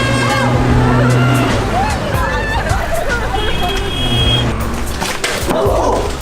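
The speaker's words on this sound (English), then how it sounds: "Watch out for the traffic, kid." Busy street traffic in Colombo, Sri Lanka, with cars and engines passing close amid a loud crowd babble, people talking and calling out over the steady roar.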